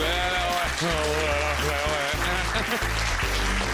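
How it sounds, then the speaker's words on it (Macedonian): Audience applause at a 2007 Macedonian TV talent show after a magician's ball trick, a dense, steady clapping that fills the room, mixed with music and some background voices. "Аплауз"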